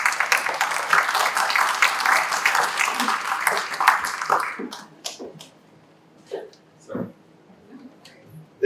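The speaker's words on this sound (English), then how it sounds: "I think we can applaud them." Audience applause at a tick-borne illness conference on Martha's Vineyard, a dense burst of clapping for about four seconds that fades to scattered claps and quiet shuffling.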